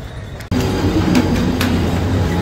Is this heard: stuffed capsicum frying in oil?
no